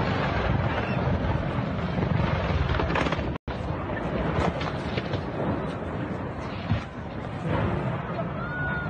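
A Sikorsky S-76B helicopter in flight near Los Angeles, a steady loud rotor and engine roar with wind buffeting, briefly cut out once.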